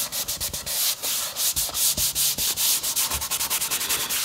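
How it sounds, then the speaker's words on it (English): Raised wood grain on a guitar body is sanded by hand in quick, steady back-and-forth strokes, a close, loud, gritty rasp with no talking. "I can feel the grain starting to come out. I hope they're right. And we're going to sand that off."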